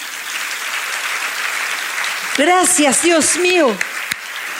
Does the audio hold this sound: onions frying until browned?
no